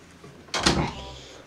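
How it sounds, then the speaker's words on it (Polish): A door closes indoors in a single sharp knock with a short rattle that fades, heard alone without talk. "Zamknij drzwi."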